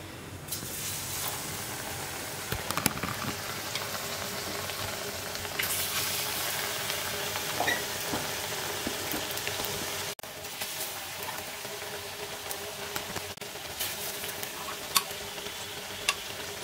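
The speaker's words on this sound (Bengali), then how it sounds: "এবারে ডুবিয়ে ডুবিয়ে ভেজে দেবো" Battered fritters deep frying in hot oil, a steady dense sizzle with occasional small pops and clicks, close and fairly quiet throughout.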